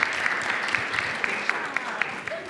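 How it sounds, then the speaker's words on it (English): An audience at a finance quiz-game presentation applauds steadily, with rapid overlapping claps and a few sharper individual claps standing out, the applause filling the whole stretch. "That is definitely worth a round of applause"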